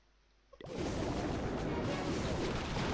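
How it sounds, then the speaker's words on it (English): Wizards blast turrets in the Clash of Clans video game, a sudden dense wash of crackling, booming battle effects that starts abruptly and then keeps up a loud, steady roar. "My wizards are already destroying all these turrets."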